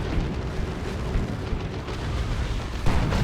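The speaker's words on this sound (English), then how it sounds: "The death explosion might have saved them there." A unit's death explosion rumbles through a Warhammer 40,000: Dawn of War 2 3v3 battle. Dense, continuous combat noise builds to a sharper boom near the end.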